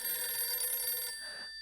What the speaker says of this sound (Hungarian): Ó, nem, már megint a telefon cseng.